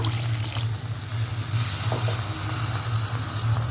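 Water poured into a hot pan of bitter gourd curry sets off a loud, continuous hiss and sizzle of steam. A low hum runs beneath it, and no one speaks.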